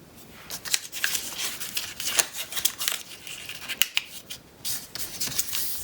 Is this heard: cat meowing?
no